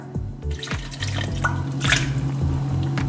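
Water is poured in while making a fruit compote: a close, steady trickle with small dripping splashes, fairly soft and continuous for a few seconds, with no speech.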